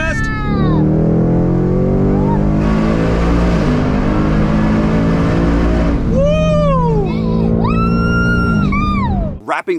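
A 2021 Ford Mustang Mach 1 Premium with a 5.0 engine accelerates hard through a tunnel. Its loud, booming exhaust note rises through gear changes and echoes off the walls, and a voice calls out over the roar.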